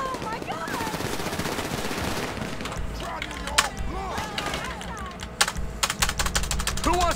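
Rapid gunfire from a shootout with bikers in GTA 5 Online, with dense bursts of automatic fire and sharp single shots crackling over game noise, joined by brief voice sounds.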